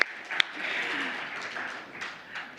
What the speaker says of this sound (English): a big round of applause for coming back to the afternoon session